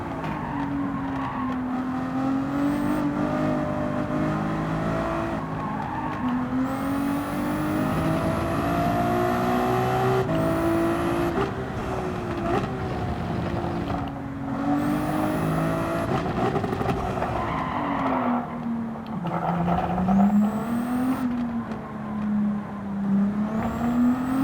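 A Lamborghini GT3 race car in Gran Turismo 7 roars steadily throughout, its engine pitch rising and falling through gear changes with upshift breaks and brief tire scrubs, loud and continuous with no talking.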